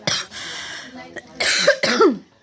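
Several close coughs from a woman in a makeshift kitchen, a rough burst at the start and more harsh coughing toward the end, mixed with voiced throat sounds.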